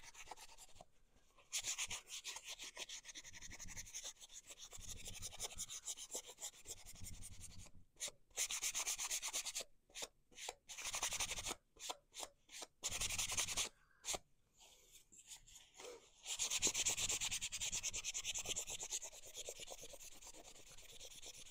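A cloth buffs a chalk-painted round surface, producing bursts of dry, close rubbing and scuffing strokes separated by short pauses, fairly quiet and with no talk over them.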